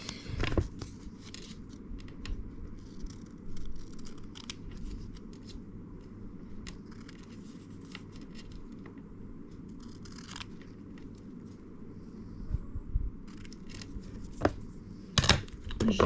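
Scissors snipping through a stencil sheet, a close run of crisp irregular cuts and rustles with a few sharper snips, quiet and with no talking.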